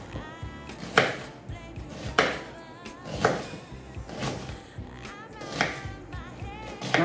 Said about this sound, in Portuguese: E essa meia cebola, que também é pequena, eu vou picar